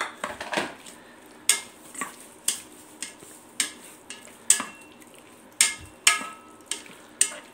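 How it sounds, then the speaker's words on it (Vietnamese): A utensil clinks steadily against a metal pot while beef is stirred for a Vietnamese braised beef and tofu stew. The sharp taps come about twice a second, fairly quiet, over a soft background hiss. "Mình đã đảo thịt được một lúc rồi các bạn ơi"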